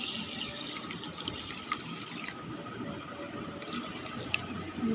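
Water poured over sago pearls in a bowl to soak them, a steady soft trickling and filling sound running throughout, close and fairly quiet with no talking.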